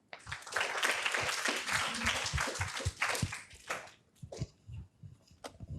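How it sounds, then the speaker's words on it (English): An audience at a high school orientation breaks into warm, dense applause that swells, holds for a few seconds, then thins into scattered claps and taps as it fades. "So please give him a round of applause."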